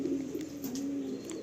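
Pigeons kept as a pet pair coo in a steady, close, low rolling drone that runs without a break, with faint higher chirps flickering above it.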